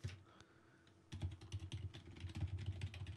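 Close, quiet computer keyboard keystrokes follow a short pause, coming in quick irregular bursts of clicks with no voices over them.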